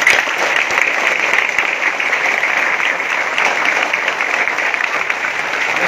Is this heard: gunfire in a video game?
no